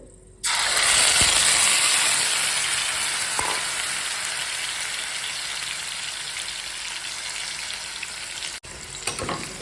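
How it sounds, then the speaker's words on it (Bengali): Onion paste, tomato and sour curd sizzle and fry loudly in a hot pan, with a steady crackling hiss that starts abruptly and carries on throughout, broken by a few faint clinks of stirring. "ভালো করে কষিয়ে নিই"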